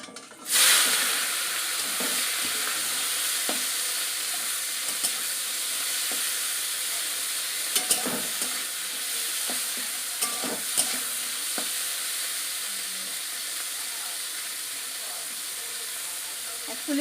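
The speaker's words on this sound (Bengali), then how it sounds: "তেলটা গরম হয়ে গেছে, এবার মাছগুলো সব দিয়ে দেব।" Prawns frying in hot oil in a wok, a loud continuous hiss and sizzle starting abruptly as they go in, with occasional stirring clicks and no talking.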